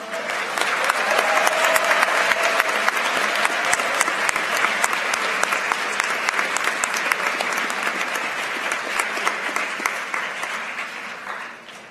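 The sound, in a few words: audience applause for math team members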